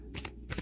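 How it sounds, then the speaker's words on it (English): Tarot cards shuffled by hand in two quick, crisp riffling bursts, close and clear with a short pause between them. "one more shuffle"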